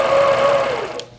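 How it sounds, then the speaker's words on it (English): Longarm sewing machine basting across the bottom of a quilt on a pantograph frame, a brief close whirring hum that fades at the end. "I'm going to baste across the bottom of the quilt."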